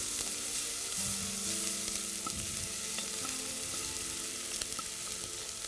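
Onion and garlic fry in oil for an eggplant and rice soup, giving a steady, loud sizzle with a few scrapes and taps from a stirring utensil, and no voices.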